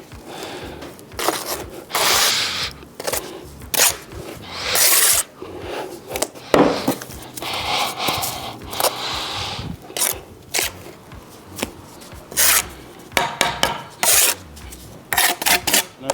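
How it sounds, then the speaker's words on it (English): A brick surface is rubbed down by hand in a series of rough, irregular scraping strokes, loud and close, with short pauses between bursts. "I'm going to rub it down until I get it right down to the bottom of the line"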